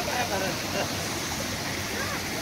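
Water flows steadily along the Bhimashankar mountain trek, a soft, even rushing wash that holds without a break, with no talk over it.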